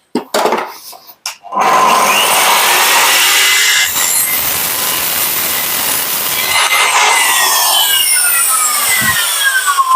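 A power miter saw bites into a wooden board for a two-story pet house, rising to a loud, sustained high-pitched whine after a few short starts and stops, then easing near the end.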